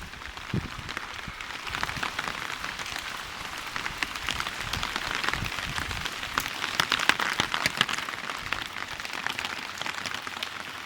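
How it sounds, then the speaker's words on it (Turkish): Steady rain, at times mixed with snow, falls on a village on a cold winter day, a dense, even patter of drops striking surfaces close by with no voices. "Geceden beri çok güzel bir yağış var. Bazen karla karışık yağmur."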